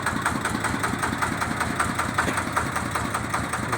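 A Thai rot e-taen farm vehicle runs its engine at a steady idle, a close, rough, rhythmic chugging with regular knocking pulses and no talk.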